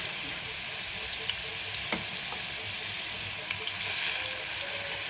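Orange peel chutney being added to a pan and stirred, giving a steady sizzling, frying hiss with scattered soft clicks of a utensil, close and continuous.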